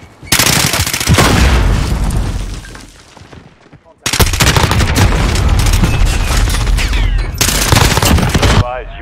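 Loud, dense bursts of gunfire and explosive booms in a Call of Duty: Modern Warfare multiplayer match fill nearly the whole stretch, with a brief lull midway before a sudden heavy blast resumes the barrage.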